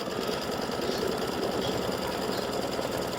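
A sewing machine runs fast and steady, its needle stitching fabric in an even, rapid mechanical chatter that stays loud and continuous throughout, with no voices.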